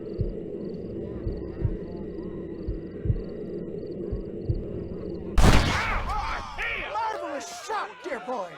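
A single loud, sharp gunshot from the Western video game Red Dead Redemption cracks out midway, after a stretch of low rumbling ambience, and is followed by a ringing, echoing tail.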